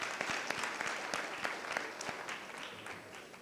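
An audience at a legal debate session gives a round of applause, dense steady clapping with distinct sharp claps, gradually thinning toward the end.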